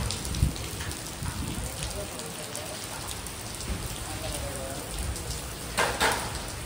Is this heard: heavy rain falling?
yes